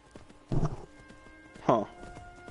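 Horse hooves clip-clopping in Skyrim VR, two separate hoof thuds about a second apart over quiet ambient game sound.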